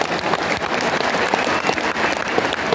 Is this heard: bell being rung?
no